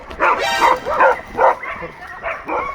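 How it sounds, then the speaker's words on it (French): Several dogs bark and yip in a rapid, overlapping burst, fairly close and loud, with a busy outdoor background at a crowded dog competition event. "il y a plein de chiens partout"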